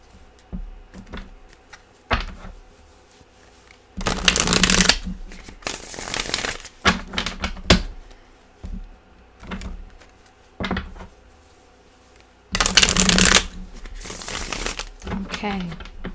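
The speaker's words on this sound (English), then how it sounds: "We'll get a little shuffling going and then we'll get started." Crisp bursts of Rider-Waite tarot cards being shuffled, two long riffling runs separated by quieter gaps with small taps and handling noises.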